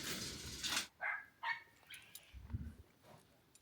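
Dogs bark a few times in quick, sharp bursts at moderate distance over quiet outdoor background, with a faint whimper-like yip afterward.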